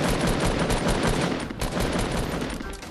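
Dense, continuous bursts of rapid automatic gunfire in a Fortnite-style shooter game, loud and close with no pauses, and no talking over it.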